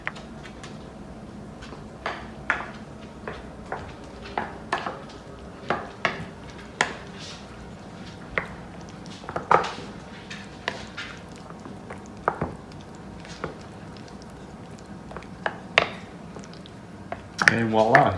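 Homemade guacamole being chopped and mixed in a bowl, scattered sharp clinks and taps of a utensil against the dish with soft squishy stirring between, fairly faint, with a voice talking throughout.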